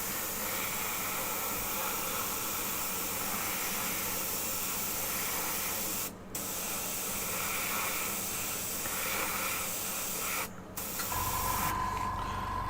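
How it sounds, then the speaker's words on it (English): An airbrush sprays water-based washes onto a dragon scale model in a steady, continuous hiss, with two brief pauses where the spray cuts out, heard alone with no talking. "the thing you can do while airbrushing washes, is they can go on practically dry"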